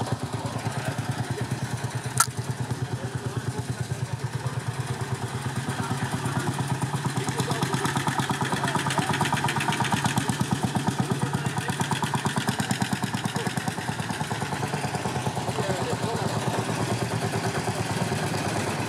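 A vintage Lanz Bulldog D 3606 tractor runs nearby with a steady, rapid single-cylinder thumping beat that swells slightly as it passes, with some clattering over the top and one brief click early on.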